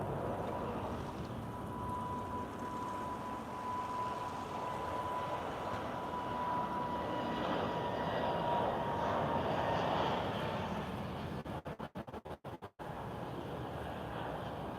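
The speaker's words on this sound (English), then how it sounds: "Very smooth takeoff today." A TAP Air Portugal airliner takes off at Lisbon airport, heard as a steady broad jet roar that swells slightly and then holds, with brief crackling dropouts near the end.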